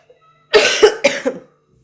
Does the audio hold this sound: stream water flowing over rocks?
no